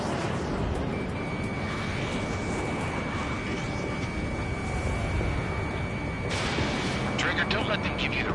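A fighter jet fires weapons in the aerial combat game Ace Combat 7, a steady roar of engine and gunfire running throughout with bursts of sharper shots near the end, mixed with game audio and radio chatter.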